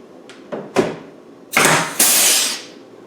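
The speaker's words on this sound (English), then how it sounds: "The air pop riveter makes a nice job, I must admit." Air-powered pop riveter setting rivets while refitting sliding side windows: a few sharp close pops followed by two longer hissing bursts of air, loud in a quiet workshop.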